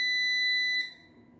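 A Linear LDCO850 garage door opener gives one loud, steady high-pitched electronic beep on power-up that lasts under a second, then cuts off into quiet room tone.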